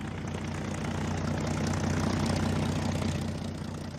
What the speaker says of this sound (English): a group of US Wildcat fighters and Dauntless dive bombers flew in